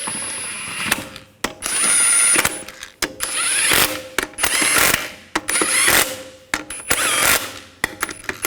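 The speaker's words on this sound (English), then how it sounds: "Get the lug nuts started" A ratchet spins lug nuts onto a wheel of a 2004-2012 Chevrolet Colorado, loud close bursts of rapid clicking in repeated runs of about a second each, separated by brief pauses.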